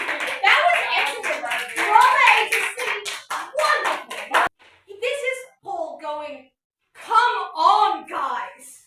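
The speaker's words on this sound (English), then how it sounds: "can we get a clap?" A small youth-group audience claps briefly in a church talk setting, a close burst of hand claps followed by a voice and adult speech.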